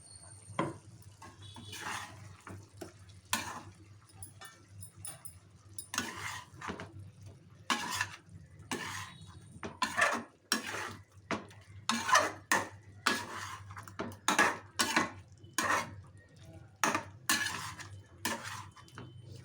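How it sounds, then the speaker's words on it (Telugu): A spoon scrapes and knocks repeatedly in a pan of dry chicken fry curry on low heat, the stirring strokes growing louder and more rhythmic toward the end, with a steady low hum underneath. "ఇది మళ్ళీ కింద అడుగంటుకోకుండా సిమ్లోనే పెట్టుకొని మొత్తం కూర అంతా కలుపుకోండి"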